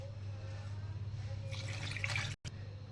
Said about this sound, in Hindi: पानी मैंने इसमें ऐड कर दिया